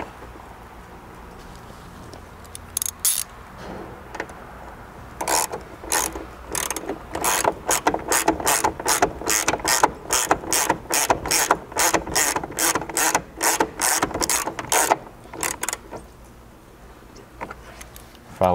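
Hand ratchet clicking in quick repeated bursts as a seatbelt bolt is tightened inside a Ford Ranger cab, close and crisp with brief pauses between strokes and no talk.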